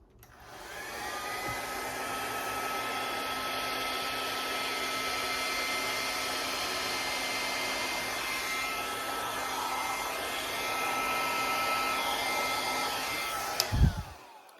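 A hair dryer blows steadily on wet acrylic pour paint for a botanical Dutch pour, a loud continuous close whoosh that cuts off with a brief clatter near the end, no voices.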